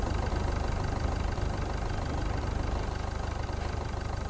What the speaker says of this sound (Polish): Proszę wyłączyć silnik.